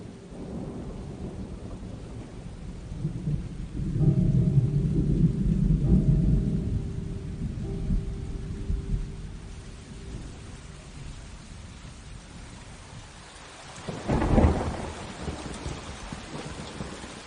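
Heavy rain pours steadily while thunder rumbles in two swells, a long roll in the middle and a sharper, closer crack near the end.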